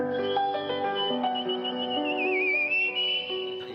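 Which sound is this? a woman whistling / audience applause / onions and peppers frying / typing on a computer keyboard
a woman whistling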